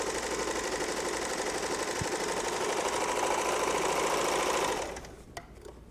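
A sewing machine stitches crochet-like rows in a steady, loud, continuous whir that runs for several seconds and then stops abruptly, leaving a few faint clicks.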